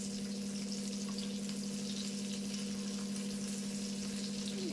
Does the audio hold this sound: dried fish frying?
yes